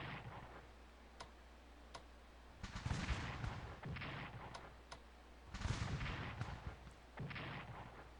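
Battle sounds from the Strategic Command: American Civil War strategy game: heavy booming artillery blasts and rolling gunfire bursts, punctuated by sharp ticking clicks, loud and with no talking.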